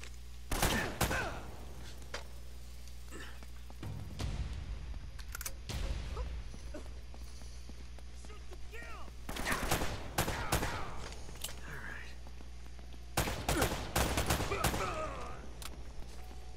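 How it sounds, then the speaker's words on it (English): Gunfire in the video game Uncharted: Drake's Lost Fortune crackles in several rapid bursts of shots separated by quieter stretches, loud and close, with some faint background activity between volleys. "They're shooting at you too, you know."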